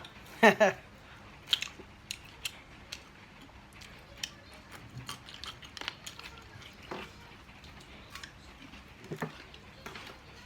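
Close, intermittent chewing and biting while eating mussels with Thai rice noodles in coconut curry and a tray of vegetables, with soft irregular crunches and smacks spread across a quiet room.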